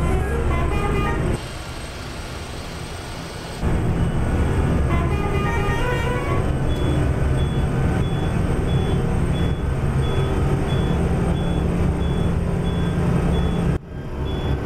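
An Indian bus (All New Veera V8) drives along a highway in Indian Bus Simulator with a loud steady engine rumble, repeated beeping and honking tones, and a quieter stretch early on before the engine roar returns.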